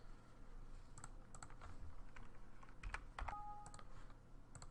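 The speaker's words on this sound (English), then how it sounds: "let's type in test space test" Light, scattered keystrokes on a computer keyboard as short text is typed into an HTML editor, soft and close over a steady low hum, irregular taps spread across several seconds with no talking.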